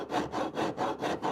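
Rhythmic rasping of a file on wood, four or five even back-and-forth strokes, close and clear with no talking.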